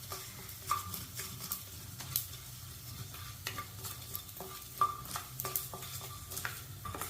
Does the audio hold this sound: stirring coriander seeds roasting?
yes